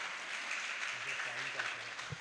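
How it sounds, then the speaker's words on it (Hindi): A hall audience at Miranda House claps steadily during a talk, a continuous wash of applause with a voice speaking over it. "आप लोग ताली बजा सकते हैं मिरांडा के लिए"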